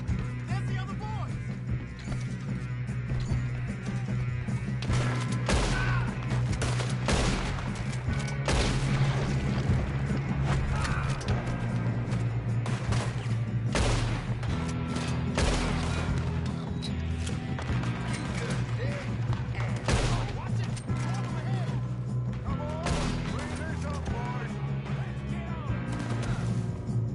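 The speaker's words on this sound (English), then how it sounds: "Good shooting, kid." Red Dead Redemption 2 shootout against O'Driscolls: repeated sharp gunshots and booms scattered over a long stretch amid game ambience, some bursts close together, with occasional voices talking.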